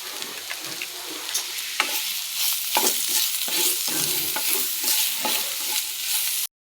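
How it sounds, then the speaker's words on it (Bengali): Vegetables frying in a pan with salt and turmeric are stirred up close, with repeated scraping and tossing bursts over a constant sizzle, until the sound cuts off abruptly at the end. "লবণ হলুদ দিয়ে নাড়াচাড়া করে নিলাম"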